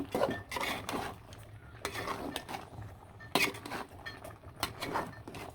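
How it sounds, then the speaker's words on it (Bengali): Bottle gourd curry cooked with a fish head being stirred in a pot: repeated close scrapes and clinks of a spoon against the metal, coming in irregular bursts with no talking. "এটা আমি ভালো করে লাড়াচাড়া দিয়ে দিব"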